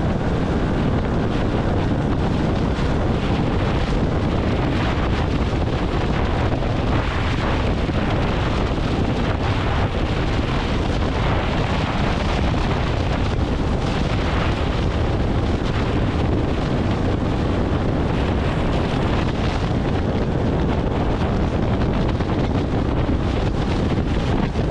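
A Motolux WOW 150 scooter riding at top speed produces a loud, unbroken roar of rushing wind buffeting the microphone over the engine, constant throughout.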